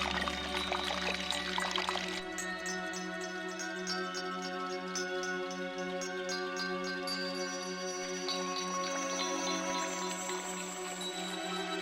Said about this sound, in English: The water is spurting up through a little hole in the base.